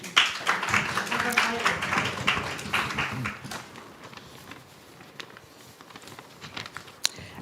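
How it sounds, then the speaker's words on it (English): Applause from an audience at a panel event on ending violence against women and girls, dense clapping that fills the room for a few seconds, then thins and fades into scattered claps and low room noise. "Please give her a round of applause as well."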